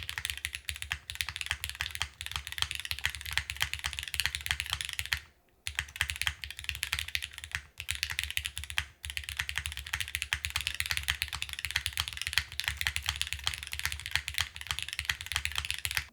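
Steady fast typing on the Oblique 60% mechanical keyboard, close and crisp keystrokes in a continuous stream with a couple of brief pauses, no talking.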